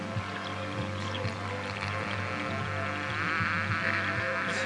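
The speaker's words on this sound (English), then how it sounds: "now we can see the water's coming out through there fairly good." Water from an indoor aquaponics drain pouring into plant pots, a steady trickling flow with a constant low mechanical hum underneath, close by.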